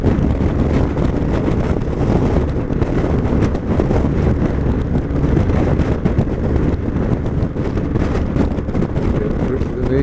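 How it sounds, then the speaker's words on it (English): Strong wind blows across a big open space lined with bent trees, a loud, constant low roar buffeting the microphone for the full length, with no clear voices. "get a lot of wind here"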